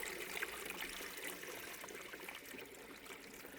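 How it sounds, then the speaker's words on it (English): Water poured into a humidifier, a continuous bright trickling and splashing stream heard close up and steady throughout, with no talking. "That is the sound of pouring water into a humidifier."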